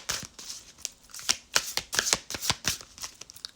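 A deck of oracle cards is shuffled close up in quick, irregular riffles and slaps, about a dozen crisp papery bursts in a row, with no talk.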